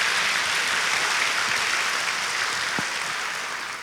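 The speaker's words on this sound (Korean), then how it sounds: "다시 한번 큰 박수 하시면 좋겠습니다." A church congregation at an autumn revival service applauds in a steady, dense wash of clapping that holds throughout and eases slightly at the end.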